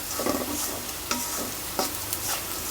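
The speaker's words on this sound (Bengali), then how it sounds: "এখন তাড়াতাড়ি করে ভাত ভাজি।" Cooked rice being stir-fried in a pan with a little oil, with a soft steady sizzle broken by scraping stirring strokes and occasional clacks of the spatula, close up and with no voices.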